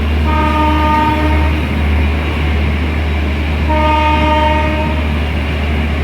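An express train passes and overtakes amid loud, continuous rail rumble, sounding two long, strong horn blasts a few seconds apart.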